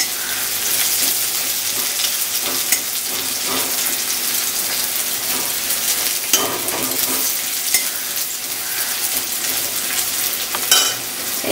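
Onions frying in hot oil in a pan for a Bengali egg curry, giving a dense, continuous loud sizzle throughout with a few faint stirring clicks and no talk.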